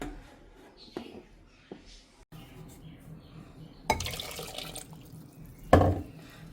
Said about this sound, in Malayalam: നമുക്ക് കുറച്ച് ഈ മിക്സിയും കൂടെ കഴുകിയിട്ട് ഇതിൽ കുറച്ച് വെള്ളം ഒഴിച്ചു കൊടുക്കാം